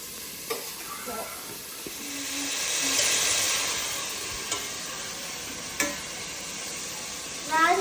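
Prawns going into a sizzling prawn and okra curry, with a steady frying hiss and a few scraping stirs and clinks of a utensil in the pot, close by, with a voice speaking briefly.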